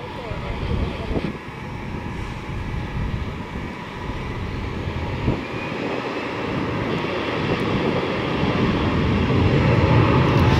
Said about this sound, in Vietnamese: mọi người đã bắt đầu dần dần cảm nhận được tiếng ồn của IL-76 rồi đấy